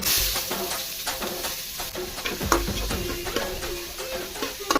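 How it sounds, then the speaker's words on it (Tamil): Green chilies, tomatoes and onions sautéing in a pan give a steady, close sizzle with scattered light clinks and stirring scrapes throughout. "பச்சை மிளகா, தக்காளி, வெங்காயம் இதெல்லாம் போட்டு கொஞ்ச நேரம் வதக்கினா காயெல்லாம் போட்டுடலாம்"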